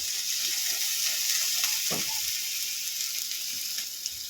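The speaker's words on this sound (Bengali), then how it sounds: "আদা রসুন পেস্ট করে নিয়েছি দিয়ে দেব" Ginger garlic paste sizzling in hot oil for potato kachori filling, a constant close hiss with a few stirring scrapes near the middle and no talking.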